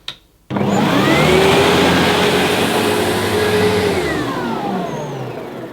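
A Diversey Ensign SM1 upright vacuum made by Sebo switches on after a click and runs loud and steady, with a smooth motor whine and airflow roar that stays constant and fades slightly near the end.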